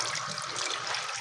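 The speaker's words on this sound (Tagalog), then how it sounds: "Maraming tubig." Water runs steadily from a large rainwater tank, a constant splashing hiss without pauses.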